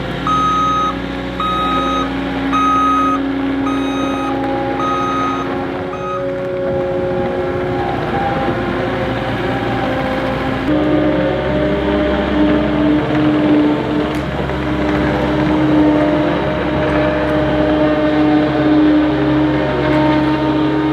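A forklift is driven and maneuvered, its engine droning loudly and close while evenly spaced reversing beeps repeat for the first several seconds before the engine note shifts and carries on alone.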